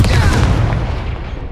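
The Confringo spell in Hogwarts Legacy, fired during Merlin's Trials, goes off as a loud, close explosive boom that dies away quickly into a fading rumble.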